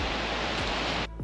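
A newly built backyard waterfall water feature, powered by a pump, pours in a loud steady rush of falling water that fills the whole clip and cuts off abruptly near the end.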